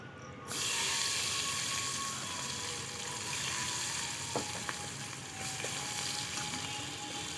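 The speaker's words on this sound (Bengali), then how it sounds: "পেঁয়াজ কুচি দিয়ে দেবো" Chopped onions hit hot oil already seasoned with whole cumin, cardamom and cinnamon, setting off a steady, dense sizzle that holds unbroken for several seconds, with a few faint clinks of a spatula against the pan.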